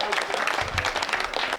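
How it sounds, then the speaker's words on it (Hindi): Audience applause at a Hindi comic poetry gathering, a short dense burst of clapping from a crowd, close and fairly loud, with voices faintly mixed in. "तालियां बजाओ, थोड़ा सा लगना चाहिए"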